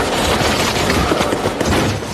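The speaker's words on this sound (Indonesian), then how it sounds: "tiba-tiba seseorang yang diduga teroris memberondong dengan tembakan" A dense, continuous crackle of rapid gunfire, loud and close, with no pauses across the burst.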